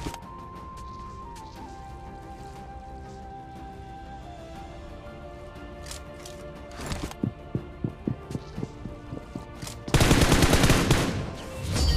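Shotgun fire in the BGMI battle royale game, a rapid run of sharp gunshots followed by a louder close burst of firing, with a faint tonal in-game hum underneath.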